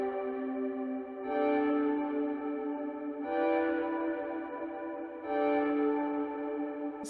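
Ocarina sample arranged into a slow chord progression, sustained rich tones with bell-like echoing attacks as each new chord enters roughly every two seconds, steady and full throughout.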